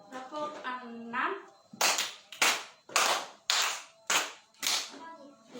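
Children clapping hands together in an elementary school counting lesson, six sharp loud group claps in a steady rhythm, following and alternating with someone speaking.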